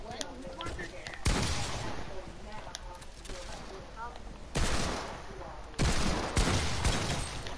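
Rapid bursts of video game gunfire from a multiplayer shooter crackle through the clip, with loud volleys arriving near 1.3, 4.6 and 5.8 seconds over a steady bed of game sound, while players talk over the shooting.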